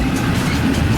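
A double-decker train rumbles by, a loud, steady, dense roar of rolling wheels and engine noise filling the whole moment with no break and no voices.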